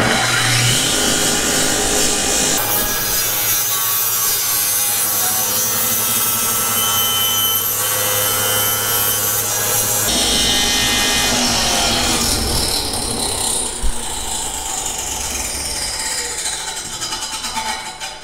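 A power saw cuts through wood close by, a dense, loud whine and rasp that shifts in tone as the blade pinches and is backed out, then the cut resumes.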